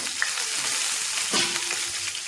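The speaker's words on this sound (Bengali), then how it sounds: "তো আমি আবার ফুলকপিগুলো ভেজে নেবো" Cauliflower fries in hot oil for a Bengali fish curry, a close, steady sizzle with occasional stirring clinks and scrapes.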